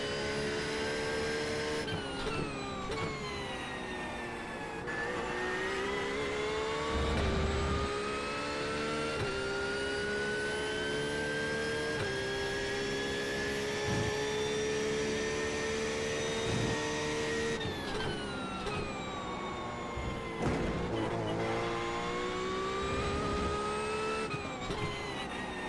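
Hypercars racing at Sebring in the iRacing simulator, a sustained high-pitched engine whine with gear shifts and cars sweeping past, steady and fairly faint.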